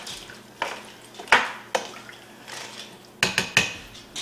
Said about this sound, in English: And then we're going to stir that around to make sure that it is well mixed.